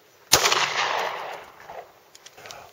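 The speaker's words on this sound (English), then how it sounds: "9mm jacketed hollow point into a frozen 16-pound turkey. Fire when ready." A 9mm jacketed hollow point round fired into a frozen 16-pound turkey: one sharp, loud gunshot crack followed by a long, ringing decay, then a few small clicks and knocks in the quiet afterward.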